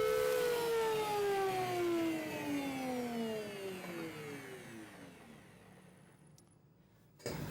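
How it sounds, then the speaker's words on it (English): Thickness planer with a lowered cutter head running as a wood board is fed through, a loud whining motor whose pitch slowly drops as it spins down, ending in a soft click. "So lower the cutter head and feed the board through again. One last pass takes care of the entire width of the board."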